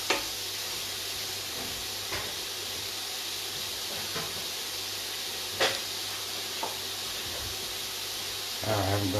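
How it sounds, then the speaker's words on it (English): Onion sautéing in a pan over medium heat for a cream-based smoked salmon pasta, a soft steady hiss with a few faint clicks and knocks from the kitchen, fairly quiet and without talk. "So saute off your onion. Medium heat."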